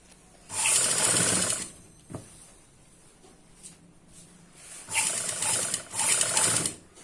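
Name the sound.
sewing machine stitching a front neck design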